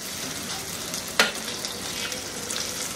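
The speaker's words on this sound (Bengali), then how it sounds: "চিংড়ি মাছটা একটু ভেজেই, মিনিট খানেকের মতো ভেজেই" Shrimp frying in a pan for Thai shrimp fried rice makes a constant close hiss and sizzle, with one sharp spatula clack near the middle and lighter stirring scrapes.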